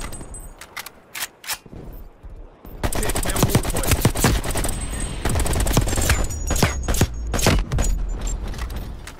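Rapid M16 rifle fire in a Call of Duty: Black Ops Cold War team deathmatch: a few sparse close shots, then dense sustained bursts of crackling automatic gunfire, loud and continuous, with impacts and mechanical clatter mixed in.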